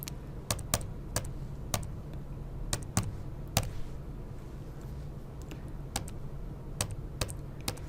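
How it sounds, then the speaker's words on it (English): Calculator buttons being pressed one at a time in a quiet room: crisp, close clicks in an uneven rhythm, about a dozen taps with short pauses between them, and no talking. "Then we'll get our calculator out."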